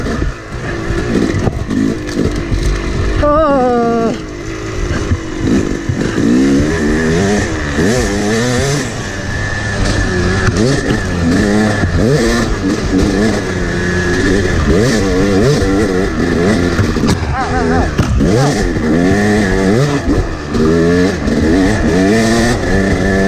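A dirt bike ridden standing up on a hard enduro lap, its engine loud and close, revving and bogging in constant rising and falling surges with a slipping clutch and no pauses.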